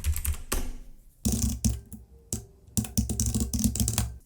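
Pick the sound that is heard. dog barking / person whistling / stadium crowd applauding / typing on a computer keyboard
typing on a computer keyboard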